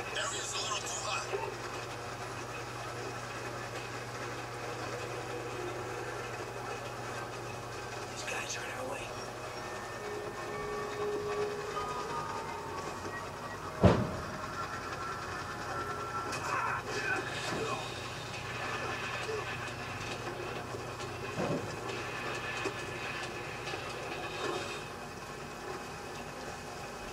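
A train rolls along rails in the Black Ops 2 game, a steady low rumble with rattling that runs throughout, one sharp clank midway, and voices talking over it.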